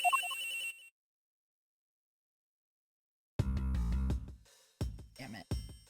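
A cell phone rings inside a locker in the game Ace Attorney Investigations: a brief electronic ringtone chirp, then silence, followed by louder tonal game music stings.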